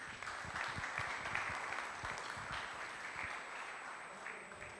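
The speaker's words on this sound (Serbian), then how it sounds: "mislim da aplauz sami sebi treba da uputite" Audience applause at the evening program of the Serbian Automobile Trophy 2023 selection: steady, dense clapping that carries evenly through the whole stretch, with a few louder claps near the front and no voices on top.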